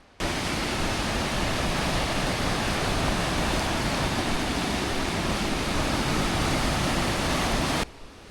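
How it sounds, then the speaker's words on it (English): A waterfall in the Oregon wilderness roars as steady, broadband white water, loud and unbroken from start to end, with no voices. "we might get on top of this waterfall."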